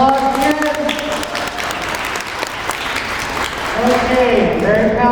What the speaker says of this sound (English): So let's give her another round of applause again.